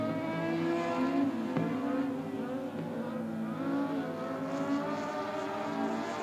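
Dwarf cars race around an oval track at South Texas Speedway, engines whining and revving in overlapping rising and falling tones, a moderately distant pack sounding continuously.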